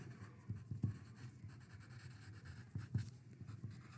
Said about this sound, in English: I'm writing this down for you all.